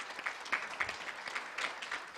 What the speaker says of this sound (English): So please give them an applause because they are here.